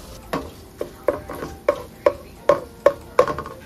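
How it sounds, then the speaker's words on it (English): Thawing frozen veggies are chopped and stirred into cooking meat in a pan, giving a steady series of about nine sharp utensil scrapes and taps roughly every half second over a faint sizzle. "I'm gonna try to chop it up and mix it in there while still continuing to chop it up"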